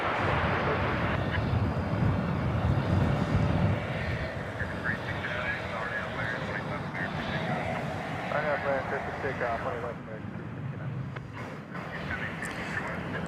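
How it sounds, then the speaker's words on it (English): An American Airlines Boeing 787 Dreamliner taxis at night at DFW Airport toward the east side for takeoff, a steady broad engine rumble and hiss that stays loud throughout and eases slightly after a few seconds, with a voice talking over it. "the tail end of an American Dreamliner going over the bridge to the east side for takeoff to Sao Paulo, Brazil"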